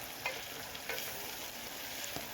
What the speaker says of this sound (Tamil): பச்சை மிளகாயும் சேர்த்துக்கலாம். வதக்கலாம்.